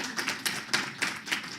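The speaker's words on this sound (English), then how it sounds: "A round of applause for him, please." Audience applause at a summit on sustainable AI, a short burst of scattered claps rising and falling in quick irregular pulses, fairly faint and heard without talk.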